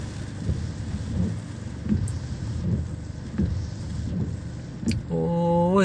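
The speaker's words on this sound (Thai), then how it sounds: "ลมแรงนะครับ พัดเอาสังกะสี ไฟประดับ" Strong storm wind roars and gusts continuously with rain, occasional rattling thumps of blown corrugated metal sheeting and decorative lights, and a rising mechanical whine near the end.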